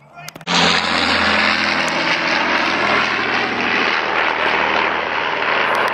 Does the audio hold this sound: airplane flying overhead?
yes